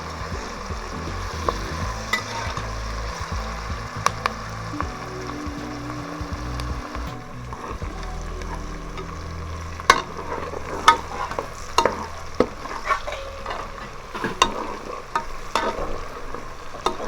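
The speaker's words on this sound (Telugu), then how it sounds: "మనం తిప్పుతూ ఉంటే ఒకే సైడు మాడిపోయినట్టు రాకుండా అంతా కలిపినామంటే అండి ఎటు మాడకుండా అన్నీ ఈక్వల్గా వేగిపోతాయి." Onions being stirred and fried in a pan for vegetable pulao, a continuous close sizzle with scraping spatula strokes and occasional sharp clinks against the pan, no talk.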